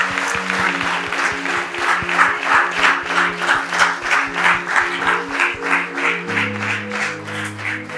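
A church congregation applauds at a Sunday service with steady, rhythmic clapping that fills the room, while sustained keyboard or organ chords play underneath.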